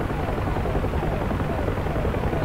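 A Huey helicopter flies low in the DCS combat flight simulator, its rotor and turbine a loud, steady, continuous drone throughout, with no voices.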